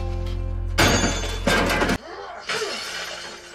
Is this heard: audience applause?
no